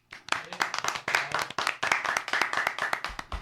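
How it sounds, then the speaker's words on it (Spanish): A small audience at a broadcast applauds Super Mario with brisk, crisp hand clapping, close and fairly loud, continuing steadily for several seconds after a sudden start. "Un aplauso para Super Mario"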